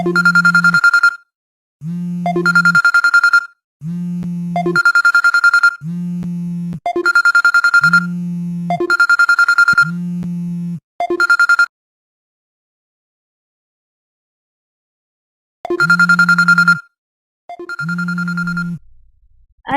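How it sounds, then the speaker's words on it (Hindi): A telephone rings in repeated double bursts with short gaps, then falls silent for a few seconds before ringing twice more. Loud and close, no voices. "फोन उठाइए ना, सुबह से 50 बार बज गया है।"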